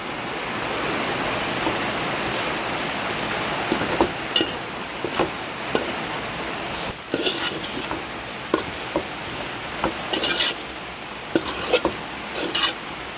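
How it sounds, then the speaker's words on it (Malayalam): Crispy dry beef (idiyirachi) sizzles steadily in a covered pan, with scattered scraping taps of a spoon as it is stirred now and then over the constant frying hiss. "ഇടക്കൊന്ന് ഇളക്കി കൊടുക്കണം നമുക്ക് ഇളക്കി കൊടുക്കാം"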